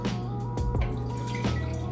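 Champagne poured into a glass beside a game-day charcuterie board: a steady liquid trickle with brief splashy pulses, lasting under two seconds, close and moderately loud.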